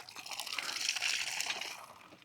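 Fresh well water gushes steadily from a newly pumped borehole at a lot being laid out, a continuous close splashing rush that holds even throughout.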